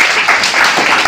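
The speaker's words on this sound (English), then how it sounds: "Clap hand for this guy." A classroom claps briefly, a short burst of hand clapping lasting about a second, close and fairly loud, with no talk over it.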